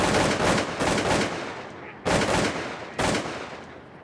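Three loud, close booms from a Winchester Super X4 shotgun fired at waterfowl on an Alberta hunt, the first blast long and rolling, then two sharper shots spaced about a second apart, each echoing away.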